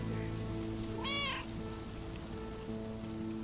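Mortimer the cat in the video game Lake gives a single short meow, clear over a steady background of rain and soft ambient tones.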